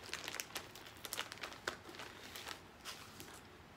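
A plastic bag holding hair bundles is pulled open, giving close, soft crinkling and rustling in quick irregular bursts that taper off toward the end.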